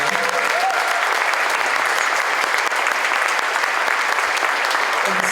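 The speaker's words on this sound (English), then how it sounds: "Big round of applause for my men." An audience at a hula hālau proclamation event applauds the hālau's men, a steady, loud, continuous wash of clapping from a large crowd that holds evenly throughout.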